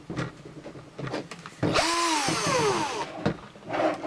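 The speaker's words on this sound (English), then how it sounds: "Take your cordless drill. I use a smaller drill bit to make a pilot hole." Cordless drill with a small bit boring a pilot hole into a plastic water barrel: a rising whine that holds steady for over a second, close and loud, with handling clatter before and after.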